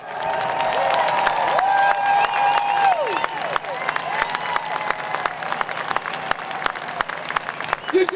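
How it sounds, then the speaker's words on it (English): Loud applause and cheering from a large stadium crowd honoring Vietnam veterans and corpsmen at Charlotte Motor Speedway, continuous for several seconds while an amplified voice speaks and sustained tones ring through. "let's give them a round of applause"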